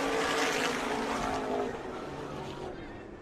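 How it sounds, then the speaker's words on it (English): High-powered sprint cars race around Tucson Speedway, a dense, steady engine roar filling the air with a slight fade toward the end. "this track's so treacherous for these high-powered sprint cars"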